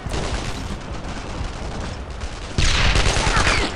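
Gunfire in the WWII shooter game Brothers in Arms: Earned in Blood, rapid overlapping rifle and machine-gun shots crackling throughout, growing louder and denser near the end, with a voice faintly under the fire.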